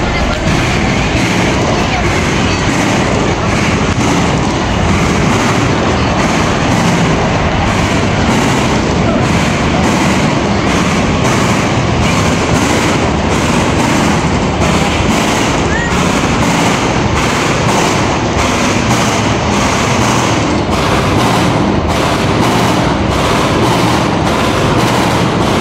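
Dense, continuous bangs and crackles from a Saudi National Day fireworks display, loud and steady for the whole stretch, with crowd voices mixed in.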